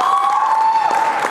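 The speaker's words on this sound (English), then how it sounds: "Those are all the filmmakers in the room applauding." Filmmakers in the audience of a film Q&A in Dallas clap together, a brief crowd applause heard at moderate distance over a sustained tonal hum.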